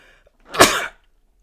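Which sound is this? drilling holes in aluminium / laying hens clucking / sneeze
sneeze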